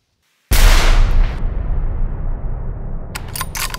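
A single loud Browning X-Bolt rifle shot fired while hunting in Scotland, a sharp blast with a long rolling decay outdoors, followed by a few faint mechanical clicks.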